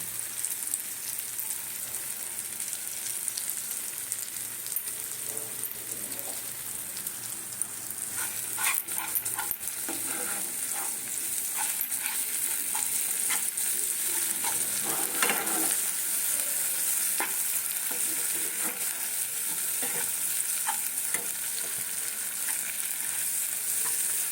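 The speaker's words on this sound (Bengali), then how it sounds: "মাছটা একটু ভাজে ভাজা হয়ে গেছে" Fish frying in a pan with turmeric and Kashmiri chilli powder, a continuous dense sizzle with occasional stirring scrapes and bursts of crackling, close and steady throughout with no talk.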